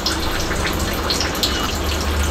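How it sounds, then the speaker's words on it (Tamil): Water poured into mushroom stuffing cooking in a pan, a steady gushing, splashing pour that runs for the whole stretch at close range, with no talk. "இப்போ ஒரு 1/4 டம்ளர் மட்டும் நான் தண்ணி சேர்த்திக்கிறேன்."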